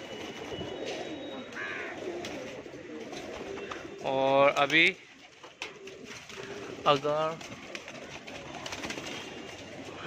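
Pigeons in a home loft in Mumbai coo softly under someone talking nearby, with a couple of louder bursts of noise in the middle of the stretch.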